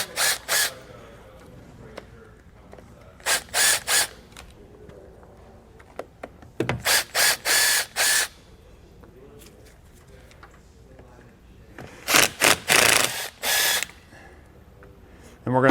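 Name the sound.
removing screws from RV roof trim with a drill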